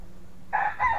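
Blue chickens and a rooster on a farm crow and call in two close, loud bursts that fill the second half of the clip.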